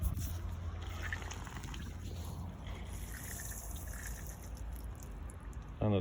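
Water trickling and draining steadily out of a household appliance, a continuous soft liquid gurgle with a brief louder splash at the very end.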